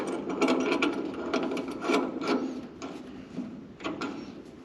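Ratchet tightening a nut during a steering upgrade on a 1965 Mustang, with several short bursts of rapid clicking, close and clear, separated by brief pauses, with no talk.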